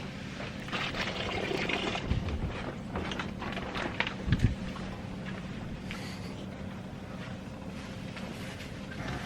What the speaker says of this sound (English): So gonna fill this up with some water.